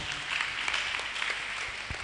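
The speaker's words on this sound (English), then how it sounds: "Please clap for him." An audience claps steadily at a Day of the African Child roadshow, a dense, even patter of many hands held at moderate level for the whole stretch, with no talking over it.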